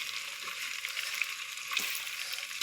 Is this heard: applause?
no